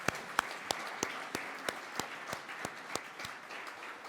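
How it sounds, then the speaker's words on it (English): An audience at a Hall of Fame induction ceremony applauds its honorees, a steady moderate wash of clapping with a few sharp, evenly spaced claps standing out near the front. "I want one more round of applause for our 11 honorees"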